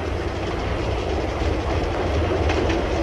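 Paris metro train running steadily on its rails, a loud continuous rumble with rhythmic clickety-clack of wheels throughout, no voices.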